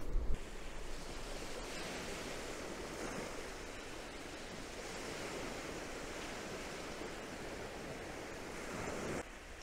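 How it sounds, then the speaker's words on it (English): Sea waves washing steadily onto a sandy beach as the tide comes in fast, a continuous broad roar of surf with some wind noise, no voices. "You can see the tide is moving in rapido style here."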